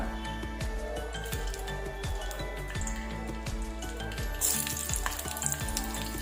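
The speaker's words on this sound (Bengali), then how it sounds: "এটাকে একটুখানি 5 থেকে 10 মিনিট ফ্রাই করে নিতে হবে।" Green chilies, onion, ginger and garlic fry in hot oil, giving a steady close sizzle with crackling pops throughout and a brief burst of brighter spitting near the end.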